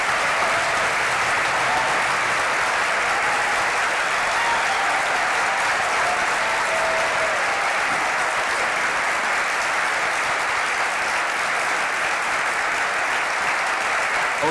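Graduates at the 2013 Erikson commencement ceremony clap together in a sustained, even round of applause that holds at a loud, steady level throughout without fading.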